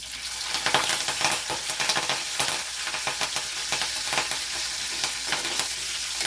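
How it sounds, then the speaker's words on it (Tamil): Curry leaves crackle and sizzle in hot oil while making egg masala gravy, a busy hiss dotted with sharp spitting pops, close by with no talking. "கருவேப்பில் பாயில் ஆகிற சவுண்ட் எனக்கு ரொம்ப பிடிக்கும்."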